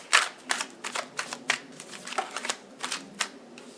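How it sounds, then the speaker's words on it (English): Tarot cards being shuffled up close, a run of crisp riffling flicks and soft slaps in an irregular rhythm, with no talking. "I never really stopped shuffling the cards"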